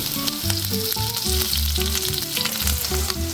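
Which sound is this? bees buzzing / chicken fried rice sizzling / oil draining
chicken fried rice sizzling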